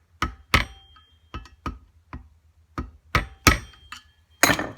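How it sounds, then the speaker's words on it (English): Hammer peening bolts on a Norton Commando 750 crankshaft: a series of sharp metallic strikes in irregular clusters, loud and close, with quiet gaps between blows. "A little peen over more in"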